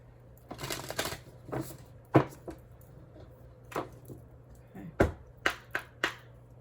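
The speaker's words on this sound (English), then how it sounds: "Let's shuffle a little bit here" Cards being shuffled in several quick riffling bursts with sharp taps and flicks in between, close and fairly quiet, with no talking.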